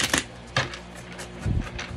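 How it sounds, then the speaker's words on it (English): A deck of playing cards being shuffled by hand, with close, crisp riffles and rapid clattering bursts in a steady run, with no voices. "Need to shuffle them real good."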